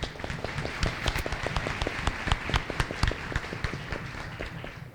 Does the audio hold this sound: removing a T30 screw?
no